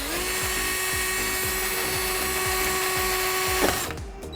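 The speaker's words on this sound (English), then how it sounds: "pushing upwards, and then just slowly drill out" A high-pitched power drill drills out a rivet on a car front splitter, whining steadily at close range with a repeating low chug as it bites, then winding down abruptly near the end.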